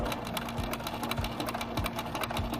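A sewing machine backstitching a quarter-inch seam runs in a quick, regular mechanical chatter, its needle strokes pulsing evenly and close by, with a steady motor hum underneath.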